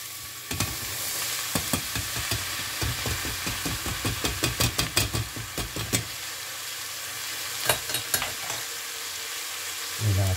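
Red lentils tipped into a hot pan with rice and spices for Indian-style dhal, frying with a steady sizzle and a run of rapid scraping and tapping stir strokes, then a few scattered clicks, close up.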